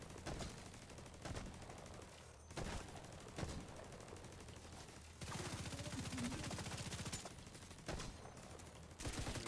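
Sustained gunfire in The Division 2, with rapid automatic bursts and booming individual shots overlapping almost continuously, loud and dense throughout.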